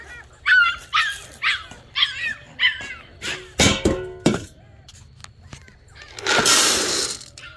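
American Staffordshire terrier puppies bark and yip at feeding time, a quick run of sharp close barks followed by a few louder yelps and a burst of scuffling noise.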